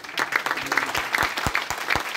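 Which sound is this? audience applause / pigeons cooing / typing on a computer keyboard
audience applause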